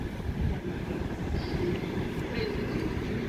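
Chita–Moscow passenger train no. 69 rolling past at speed, a steady loud rumble of wheels and carriages filling the whole stretch without a break.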